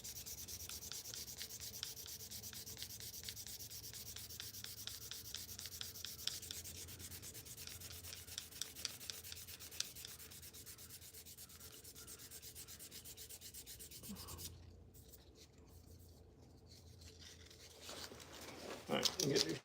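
Sandpaper rubbed by hand over an oiled wood carving, a steady scratchy rasp of quick back-and-forth strokes that runs close and continuous, then pauses and resumes with a few louder scrapes near the end.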